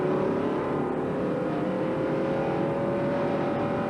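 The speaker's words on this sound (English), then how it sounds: "You're looking live at the STP Pontiac, rather the Pontiac pace car. Elmo Langley is behind the wheel, leading the field around under caution here." At Richmond during the 1993 Pontiac Excitement 400, the stock car field circles under caution behind the Pontiac pace car, a steady, muffled drone of engines droning at low speed without sharp revs.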